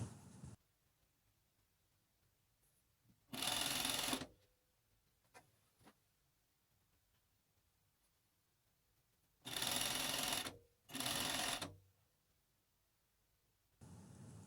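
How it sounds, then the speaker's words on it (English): A Juki MO 6714 D overlocker sews the side seams of a dress from the hem up, in three loud close bursts of rapid stitching separated by quiet pauses. "Now I'm going to sew the side seams. I'm going to sew from the hem up"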